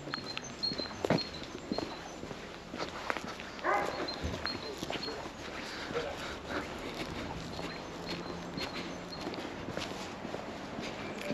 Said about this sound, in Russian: Овчарки бегают.